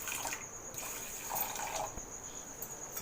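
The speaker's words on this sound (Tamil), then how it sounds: "சர்க்கரை மூழ்கிற அளவுக்கு தண்ணி சேர்த்துக்கோங்க" Water is poured over sugar in a pan to make syrup for gulab jamun, giving a close, continuous trickling and splashing that stays fairly soft and steady.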